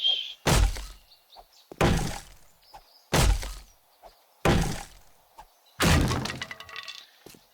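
Five sharp breaking impacts of a wrench smashing a wooden table in a modded survival video game, evenly spaced about every second and a half, each a loud crack with splintering debris, the last one longer with scattered glass-like rattles.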